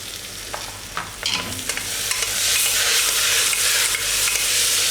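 Tomato drops into a hot frying pan for sambar, a few clattering stirs followed by a loud, steady hiss of sizzling that swells and holds close up.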